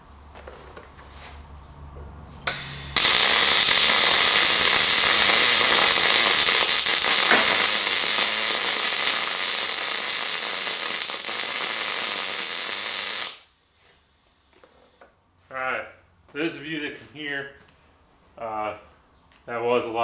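Fronius TransSteel 2200 welder running for about ten seconds, a loud steady crackling hiss that starts and stops abruptly, followed by a person talking.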